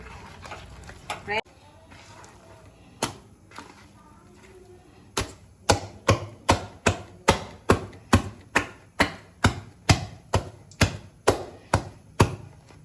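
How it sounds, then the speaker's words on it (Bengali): Jackfruit fritter batter with a pinch of baking soda being beaten by hand in a bowl, a steady run of sharp, evenly spaced taps and knocks after a few scattered clinks at the start. "একটু দিয়ে দেবো খাবার সোডা আর একটু ভালো করে ফেটিয়ে নেবো"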